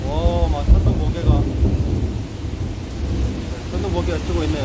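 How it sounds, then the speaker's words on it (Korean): Thunder rumbles during a heavy rainstorm, deep rolling booms over a steady hiss of rain, loud and close, with a brief voice in the background at the start. "천둥 번개가 치고 있네요."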